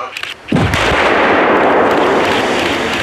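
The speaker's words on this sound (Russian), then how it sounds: "Вскрытие кромки льда взрывным методом спасатели проводят для предотвращения затора снежных масс у мостов и переходов во время весеннего ледохода." Rescuers set off explosives to break river ice at a river mouth during the spring ice drift: a sudden loud boom that rolls into a long, dense roar of falling debris and rumble.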